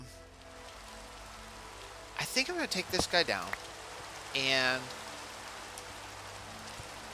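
Steady rain falls in Minecraft as a continuous hiss beneath a man's speech, which comes in two short bursts partway through.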